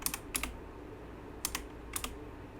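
Quiet computer keyboard keystrokes come in short clustered bursts, a few quick taps at a time with pauses between, close and fairly soft over a low room hum.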